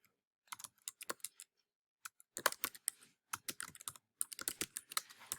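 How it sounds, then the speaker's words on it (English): Typing on a computer keyboard while writing a book introduction, with irregular bursts of close, crisp key clicks separated by short pauses, heard alone without talk. "underneath, I'll start typing my introduction"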